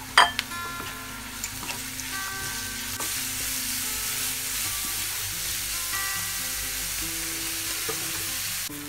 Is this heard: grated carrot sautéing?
yes